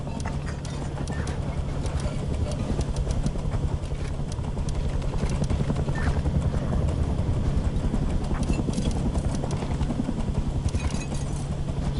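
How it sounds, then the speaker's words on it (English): A helicopter flies in the video game Rust, a continuous loud rotor thump with steady rapid pulsing and engine drone that persists throughout without letting up. "Wait for Chopper to go away."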